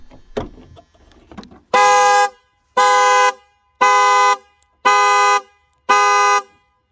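A 2023 Jeep Gladiator's alarm sounds its horn in five loud, evenly spaced blasts, each about half a second long, after a moment of quieter shuffling.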